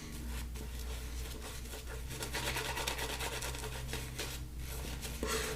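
A shaving brush works soap into a thick lather for wet shaving with a safety razor, giving continuous close wet swishing and rubbing with slight rhythmic surges, steady and fairly quiet, without any talking.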